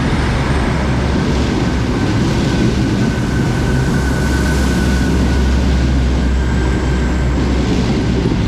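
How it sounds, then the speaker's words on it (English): A Class 158 and Class 156 diesel passenger train pair, an EMR service to Nottingham, pulls out of a station with a steady, loud engine drone and rolling rumble that holds evenly throughout. "going out now is the final train of today's video, the 1955 EMR service to Nottingham"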